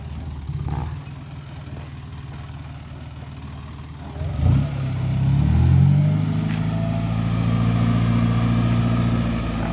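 A 150-horsepower pickup truck engine idles with a low rumble, then revs up loudly and settles into a steady, throaty drone close by.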